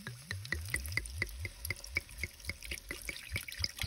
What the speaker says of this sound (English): I'm going to add in approximately 1 cup or so of white wine